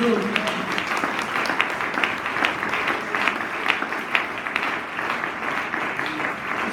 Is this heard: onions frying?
no